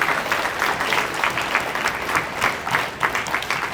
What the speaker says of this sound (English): we probably should give a round of applause to Tina